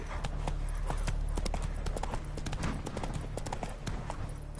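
Horse galloping in The Witcher 3 video game, rapid rhythmic hoofbeats thudding close and steady over a low continuous rumble of movement.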